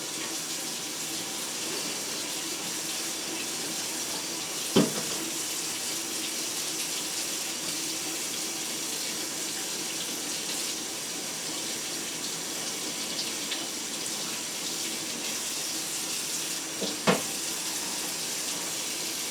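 Tap water runs steadily over metal items being scoured and washed, a constant close hiss broken by two sharp metallic clinks.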